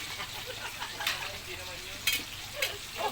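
Food crackles and sizzles in a hot pan, with a few sharper spattering pops over the steady hiss.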